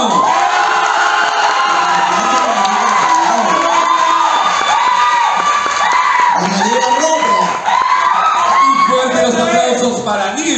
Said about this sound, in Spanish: Fuerte los aplausos para Linda Brown